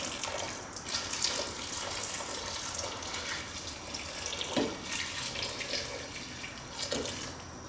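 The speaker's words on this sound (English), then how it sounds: "Okay, so I'm adding in about 1 liter of water." About a liter of water poured into a pot of coconut beef and potato stew on the stove, a continuous splashing, trickling stream that holds steady for several seconds without talk.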